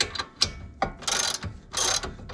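A ratchet tightens the tie rod nut on a Porsche 996, several bursts of rapid close clicking separated by short pauses and a metallic clunk, no speech.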